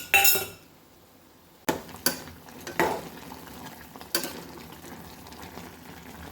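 Roasted bread pieces are stirred into sugar syrup in a pan for bread halwa, giving a few sharp metallic clinks and scrapes of a spoon against the pan over a soft, steady simmer.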